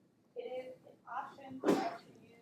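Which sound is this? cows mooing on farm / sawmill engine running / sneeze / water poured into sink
sneeze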